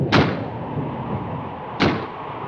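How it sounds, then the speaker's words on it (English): A door blown by the wind bangs twice, two sharp, loud knocks about a second and a half apart, over a steady rushing background. "That's just the wind banging a door."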